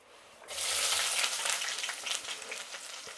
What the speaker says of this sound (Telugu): ఇప్పుడు నూనె కాగింది, ఇవి వేద్దాం.